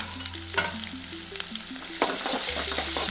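Onions frying and stirred in a pan for Mangalorean prawn sukka, a steady close sizzle broken by repeated scraping strokes of a spoon and a louder hiss swelling toward the end, with no talk.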